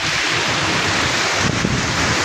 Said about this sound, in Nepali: आज हाम्रो यहाँ गाउँमा यस्तो पुरा पानी अनि हावापानी पुरा